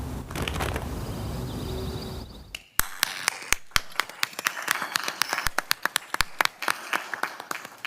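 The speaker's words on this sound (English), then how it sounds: "Thank you for that applause." Audience applause at a school district event following a choral performance: a dense wash of many hands fades out, then scattered sharp individual claps ring on alone in a large room.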